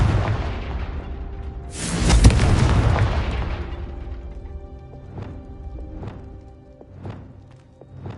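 A Confringo fire spell bursts in Hogwarts Legacy, a single loud booming explosion that swells and rumbles, then decays into scattered sharp crackles and pops with ringing tones.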